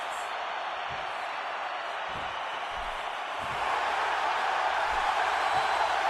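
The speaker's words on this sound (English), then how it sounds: "you can hear the crowd with every move getting more and more behind this guy" A wrestling arena crowd roars steadily throughout, a broad wash of cheering at a distance that swells louder partway through, with occasional thuds beneath it.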